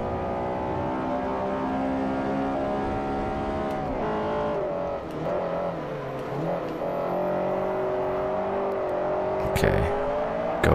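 Racing car engine in Forza Motorsport 4, a Class D car on an Asian tour, drones steadily with whining harmonics that dip and climb as it brakes and accelerates through a turn, with a voice talking over it.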